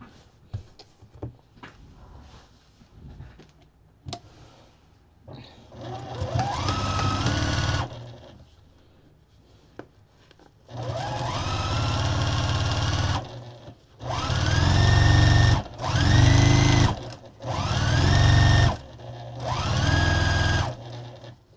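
Sewing machine basting leftover fabric pieces together for a chicken-shaped pot holder, running in several bursts of steady mechanical whirring with short pauses between them, close and fairly loud.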